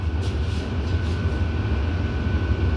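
An AC EMU local train pulls out of Naihati junction on the Sealdah to Kalyani line, giving a steady, continuous low rumble with a faint high whine above it and no voices.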